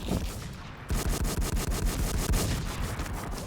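Rapid bursts of automatic gunfire from the WarZ video game, a steady loud rattle of repeated shots after a brief opening burst, with no voices over it.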